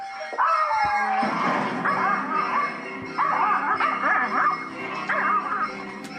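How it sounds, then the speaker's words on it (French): A small dog named Peanut, in a home with other dogs and cats, barks, yips and whines excitedly after the doorbell rings, loud and continuous. "elle se met à aboyer"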